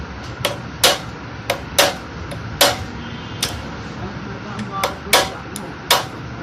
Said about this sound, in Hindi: कील की मदद से आपने पंच लगाने हैं